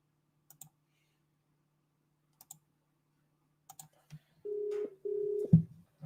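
Phone line on a live call-in Q&A show connecting as a caller is picked up: a few scattered clicks, then two steady ringback-style tones, ending in a thump.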